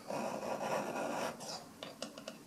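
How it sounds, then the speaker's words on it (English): A metal hand file rasps across a titanium part from a 10mm 1911 pistol build, a run of close, even strokes for over a second, followed by a few brief, lighter scraping passes. "It's a really nice file. Cuts real nicely."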